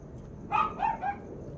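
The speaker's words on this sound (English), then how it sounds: "Diamond, what are you barking at, dude?" A dog gives about three short, sharp barks in quick succession at close range, standing out over a quiet indoor background with no talking.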